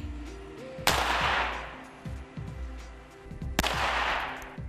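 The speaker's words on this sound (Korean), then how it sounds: "같은 조건으로 방탄유리가 총알을 막아내는지 실험했습니다. 방탄유리에 총을 정조준하고" Gunshots fired at bulletproof glass during a ballistic test: two sharp, loud cracks a few seconds apart, each trailing off in a ringing decay over a low background hum.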